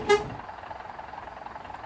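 A single short toot from the standard first horn of a Scania K410 bus in Bus Simulator Indonesia, a brief bright blast at the start followed by a quiet engine idle.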